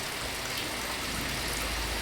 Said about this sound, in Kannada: ಇದೇ ರೀತಿ ಮಳೆ ಬರ್ತಾ ಇದೆ ನೋಡಿ